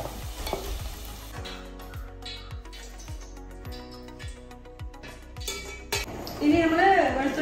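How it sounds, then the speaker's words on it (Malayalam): Garlic frying in oil for a tender jackfruit pickle sizzles steadily while a spoon scrapes the pan in regular strokes, close and clear, ending in a louder burst of frying. "അപ്പൊ വെളുത്തുള്ളി നന്നായിട്ട് മൊരിഞ്ഞു വന്നിട്ടുണ്ട്"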